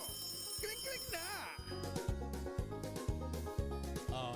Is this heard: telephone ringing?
yes